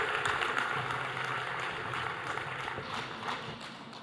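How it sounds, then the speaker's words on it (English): Delegates at a political address for the Leader of the Official Opposition give a round of applause, a soft, distant, even patter of clapping that holds steady throughout. "delegates, join me in giving a warm round of applause"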